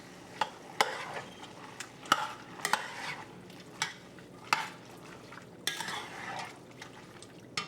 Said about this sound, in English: I'm adding in my tomatoes, my corn.